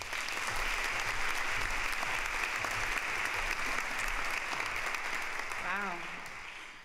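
Audience applause welcoming a speaker at a University of Georgia College of Education event, steady clapping that holds for several seconds and then begins to fade.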